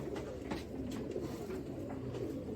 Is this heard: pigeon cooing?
yes